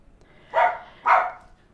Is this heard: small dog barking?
yes